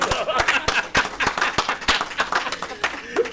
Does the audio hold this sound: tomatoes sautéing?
no